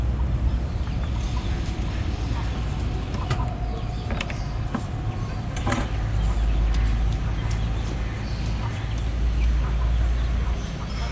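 A hen clucking at a home farm after laying an egg, with repeated clucks over a constant rumbling background and a faint voice now and then.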